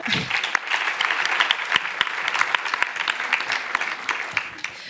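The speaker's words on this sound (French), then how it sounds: "On peut l'applaudir." A French audience at a staged public hearing on discrimination applauds a witness called to the stand, with dense, steady clapping close and loud throughout.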